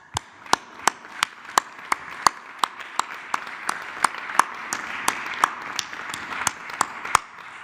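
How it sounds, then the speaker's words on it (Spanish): A small group at a press conference claps for business people, a sparse, steady series of distinct sharp hand claps with a soft room murmur beneath. "me permite yo darles un aplauso a los todos."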